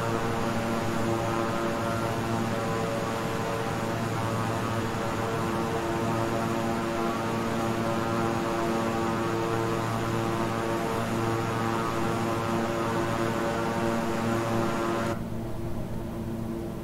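Steady drone of a King Air 350i twin-engine turboprop in Microsoft Flight Simulator, a continuous loud hum with stable engine tones, throttling back at level cruise, alone with no talk, cutting off sharply near the end.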